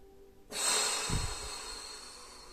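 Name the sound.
instructor's breathing during neck rotation sophrology exercise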